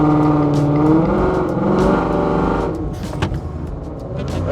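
A car engine revs hard while held against a transmission brake and foot brake, a loud strained drone with rising harmonics that drops off partway through into lower rumbling and clunks.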